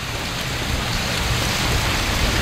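Wind-driven waves slapping and breaking up thin remaining ice on a pond make a steady, close, rain-like patter of small crackles and splashes, constant throughout without any talk.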